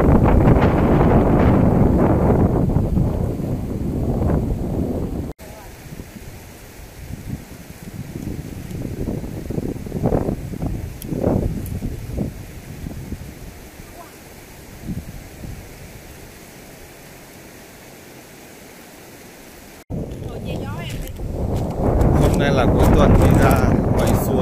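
Wind gusts beside a canal near Grünwald on the Isar, rushing loudly into the microphone at first, then easing into quieter rustling for a stretch before the buffeting returns strong.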